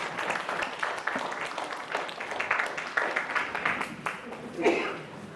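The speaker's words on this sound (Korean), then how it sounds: "박수로 목사님 모시겠습니다." Church audience applause welcoming a guest pastor to the pulpit at a spring retreat service: steady, dense clapping from a crowd throughout, with a murmur of voices and a few cheers mixed in.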